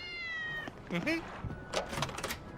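Cats in the video game Tales of Berseria let out one long, clear meow, followed by people talking with a few soft thumps underneath.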